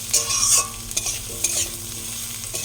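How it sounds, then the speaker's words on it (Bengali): Frying potatoes with ginger paste and turmeric are stirred in a hot pan, an ongoing sizzle broken by several scraping, clattering strokes of a spoon against the metal. "আদা আর হলুদটা দিয়ে নাড়বো।"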